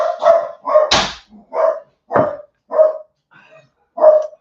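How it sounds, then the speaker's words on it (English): Several dogs bark in sharp, separate bursts, roughly one every half second, with one louder yelp-like bark near the start. The barks are close and loud against otherwise quiet gaps, and no one speaks. "that was the dogs"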